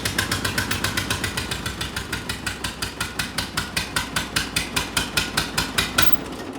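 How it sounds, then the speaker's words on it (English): An antique Allis-Chalmers WD-45 tractor engine with a homemade straight pipe runs rough, its loud, rapid exhaust barks pulsing steadily like a two-cylinder John Deere, close and alone without talk. "the WD-45 did not want to run good. She sounded just like a 2-cylinder John Deere"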